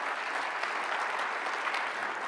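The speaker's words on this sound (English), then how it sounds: "How about we give them another round of applause?" A crowd at a Guidewire corporate keynote gives an even, sustained round of applause, moderately distant and steady throughout.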